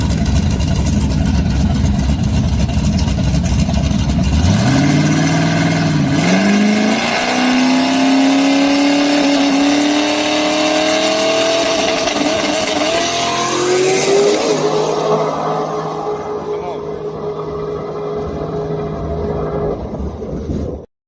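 A drag race car makes a loud, close pass, its engine revving hard and rising steadily in pitch through the gears, then fading at the end.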